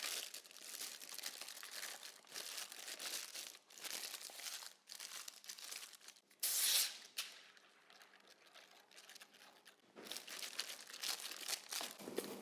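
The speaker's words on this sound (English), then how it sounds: "We have a piece of parchment paper I'm gonna put at the bottom of this baking dish." A sheet of parchment paper crinkles and rustles while being pressed into a 9 by 9 baking dish, close and busy, with dense crackling bursts, a sharp tearing crunch midway, then quieter handling.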